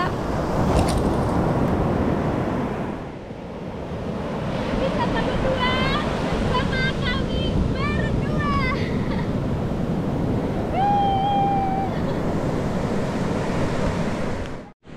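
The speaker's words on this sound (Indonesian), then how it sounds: "nikmatin ombak" Ocean waves washing onto the beach at Bugel, Pandeglang, Banten, a continuous close surf roar with wind, while people talk over it in the middle.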